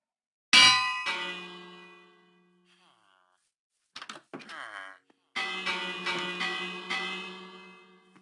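In a Minecraft-style game, a loud metallic bell clangs and rings out, decaying slowly, then repeated rapid bell strikes follow after a brief burst of voice-like sounds.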